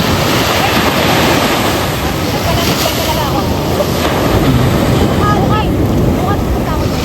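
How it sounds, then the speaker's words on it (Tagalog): Strong ocean waves crash and surge at Tibu Tidal Pool in Casiguran, Aurora, a loud continuous roar of surf with heavy wind buffeting the microphone throughout. "Ang lakas ng alon dito mga."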